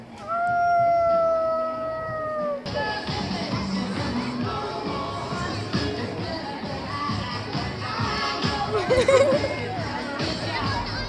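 A person at an outdoor community festival imitates a wolf howl: a brief, rising-and-falling wavering howl, then crowd chatter and outdoor babble take over for the rest.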